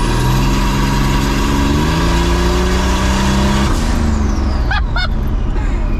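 A turbocharged all-wheel-drive S10 truck engine revs hard and loud, its pitch climbing before a clean downshift drops and rerises the tone, with a brief high chirp near the end.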